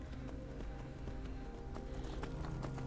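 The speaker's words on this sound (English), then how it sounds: "I am very happy to watch my little horse ride." Horse hoofbeats while riding in Skyrim: Dawnguard, a steady clip-clop rhythm of hooves on the ground running through the whole clip at moderate loudness, with a tonal game sound underneath.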